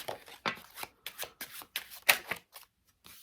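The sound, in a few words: shuffling a deck of playing cards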